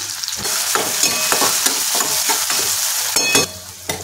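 Potatoes frying in hot oil for poha, with a steady sizzle broken by repeated scraping stirs of a spoon against the pan, close and fairly loud, no voices.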